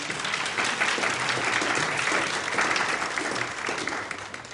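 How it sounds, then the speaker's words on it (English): An audience at a law school Martin Luther King Jr. commemorative program claps steadily, a dense sustained round of applause that holds for several seconds and fades slightly at the end. "I think you ought to give yourselves a round of applause."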